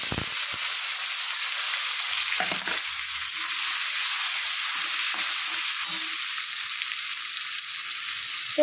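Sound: bay leaf, cumin and chopped onion frying in oil

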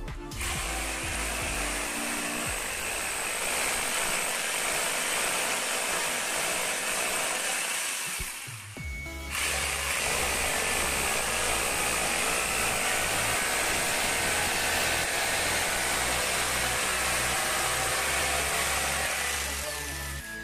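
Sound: drill machine drilling holes in wall for wash basin

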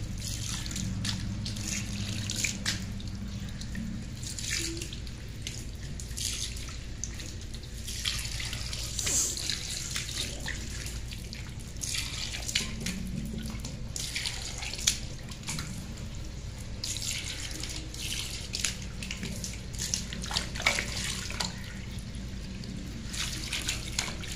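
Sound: rinsing a washbasin with running tap water

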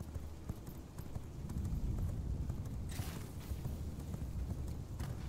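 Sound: horse hooves galloping in the video game V Rising

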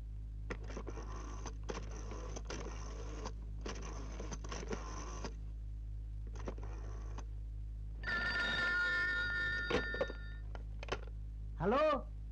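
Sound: telephone ringing

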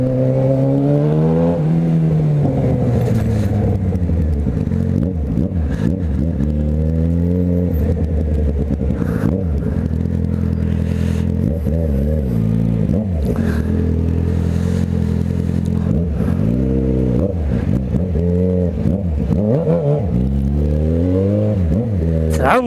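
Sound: heavy street traffic

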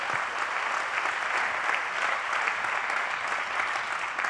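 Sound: applause

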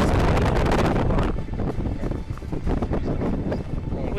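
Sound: wind blowing

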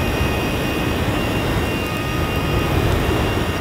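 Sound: flamethrower firing a gasoline and diesel mix

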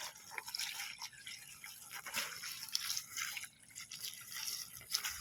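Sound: watering planted corn with water dripping

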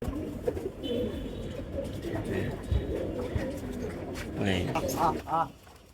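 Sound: pigeons cooing

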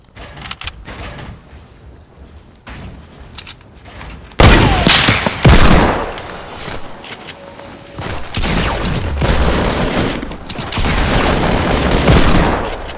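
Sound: gunfire in Fortnite video game

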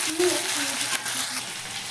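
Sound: onions frying in a pan

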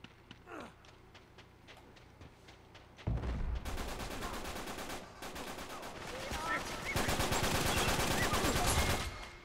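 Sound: gunfire in the video game Uncharted 3

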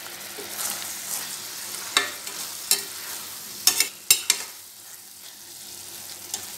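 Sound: stirring coconut barfi mixture in a pan on low flame

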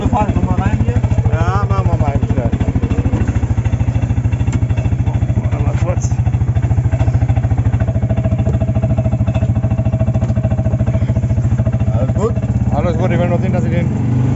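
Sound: buggy engine running during a ride in Side, Turkey

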